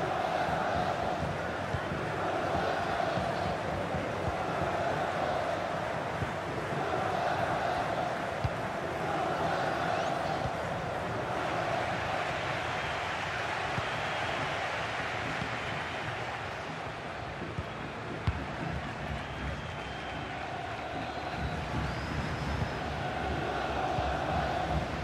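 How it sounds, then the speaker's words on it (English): Football stadium crowd at a match between Fiorentina and IFK Norrköping, a dense, continuous roar of voices and murmuring from a distance that holds steady throughout. "Well, listen to that. You can sense how annoyed the crowd are."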